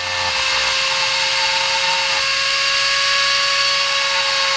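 A power drill bores a small hole in a RadioShack flashlight robot, giving a loud, steady, high-pitched whine that runs unbroken for several seconds close up.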